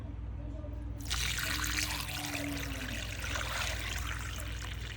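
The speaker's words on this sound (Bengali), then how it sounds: "পানি দিয়ে দেবো বন্ধুরা" Water is poured into a pot of potatoes set for boiling. A steady trickling pour starts about a second in and runs on over a low constant hum, close and moderately loud.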